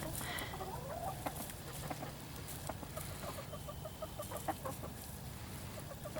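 Chickens cluck steadily in a backyard flock while pecking at sourdough starter discard thinned with water, a run of short repeated clucks and soft calls that stays close and fairly even throughout.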